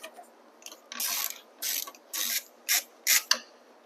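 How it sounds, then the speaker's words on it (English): A ratchet and socket loosen the rear wheel axle nut on a Talaria Sting electric motorcycle, giving six clicking ratchet strokes in a steady rhythm, close and fairly quiet, with short pauses between them. "get a decent size ratchet and socket and go ahead and loosen your rear wheel"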